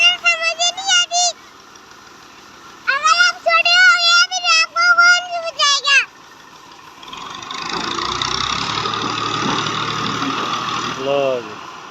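An old Massey Ferguson 240 tractor, its front tyre caught against a trolley, revs and pulls with a steady mid-pitched engine rumble. Bursts of high, tonal voice-like sounds come first.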